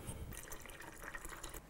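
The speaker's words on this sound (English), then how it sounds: "We want to completely submerge the almonds in water." Water is poured over almonds in a container, a soft, steady trickle and splash of filling liquid with faint drips, quiet and close, with no voices.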